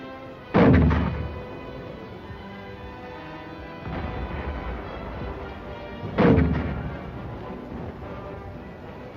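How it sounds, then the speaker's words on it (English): A Korean War heavy mortar company of the 25th Division firing at the enemy: two loud, close booming blasts a few seconds apart, each with a rolling echo, plus a fainter thump between them. "a 25th Division Heavy Mortar Company fires at the enemy"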